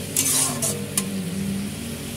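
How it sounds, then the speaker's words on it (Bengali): Onion and garlic paste is stirred as it fries in a pan for a Bengali lote fish curry. A couple of brisk scraping strokes sound over a low, continuous sizzle, and no one talks. "পেঁয়াজের সঙ্গে রসুন বাটার পেস্টটা ভালো করে আমরা দেখতে পাচ্ছ নাড়াচাড়া করে নিচ্ছি"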